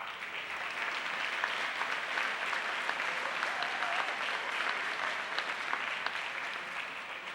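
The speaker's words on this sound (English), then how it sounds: "And Will, they're applauding you" A graduation ceremony crowd applauds an Eagle Scout honoree, producing steady, moderately loud clapping from many hands that continues evenly throughout with no talking.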